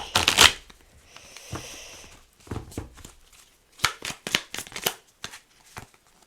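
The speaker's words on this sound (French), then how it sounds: "Non, je vais encore mélanger." Tarot cards shuffled by hand in bursts of quick riffling and slapping, with a louder flurry at the start and a rapid run of crisp card snaps near the end, close and alone.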